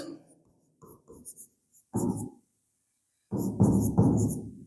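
Marker or chalk scratching on a board during a chemistry lecture, in short separate strokes and bursts with brief silent pauses between them, close and fairly clear.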